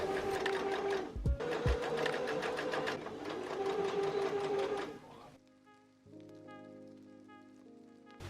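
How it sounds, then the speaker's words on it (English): A sewing machine stitches a fabric waistband made from a bedsheet, with the elastic stretched in sections: a steady, fast, close mechanical whir for about five seconds, then a quieter, lighter hum at the end. "I'm sewing in sections to stretch the waistband as I sew"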